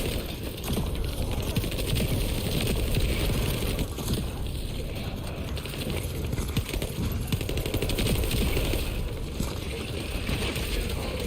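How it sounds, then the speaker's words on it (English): A submachine gun fires in the video game The First Descendant in continuous rapid bursts, loud and dense, with clattering mechanical rattle and barely any talk. "This SMG is strong."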